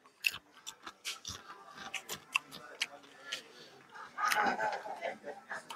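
Crunching bites of white corn tortilla chips, a series of close, sharp crisp crackles in an irregular chewing rhythm, growing denser toward the end.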